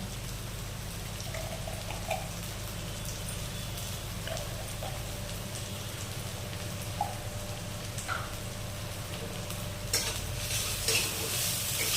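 Sliced onions fry gently in oil, a soft, even sizzle under light, scattered scraping and tapping as they are stirred in the pan.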